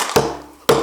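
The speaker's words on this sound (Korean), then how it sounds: "망치 소리도 나야 게" A carpenter's hammer strikes timber twice during traditional Korean hanok joinery work, two sharp, close, solid knocks about half a second apart, each with a brief ringing tail.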